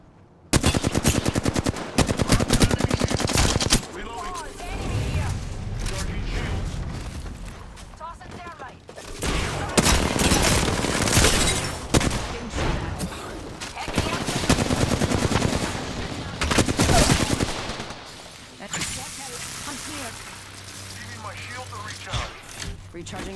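Video game firefight with bursts of rapid automatic gunfire and heavy shooting, loud and intermittent with quieter gaps, as game voices call out commands over it.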